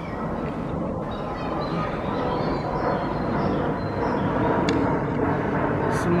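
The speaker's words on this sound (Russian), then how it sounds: "Самолет там летит." A passenger airplane passes overhead outdoors, giving a continuous broadband roar and rumble that holds steady and swells slightly, with faint sounds from the surroundings and no talking.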